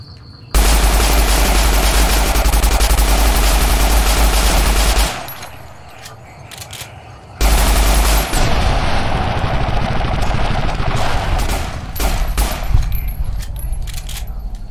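A Thompson submachine gun fires loud, sustained automatic bursts close by. A sharp pause separates two long volleys, and scattered echoing cracks follow the second.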